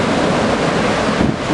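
Ocean waves on a foggy sea at a surf spot roar as steady broadband wash, loud and close, mixed with gusty wind buffeting the microphone and no talking.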